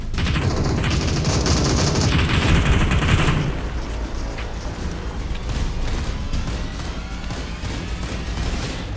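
Loud, sustained automatic gunfire in the video game Super People, dense rapid bursts of shooting filling the whole stretch, close and continuous with no pauses.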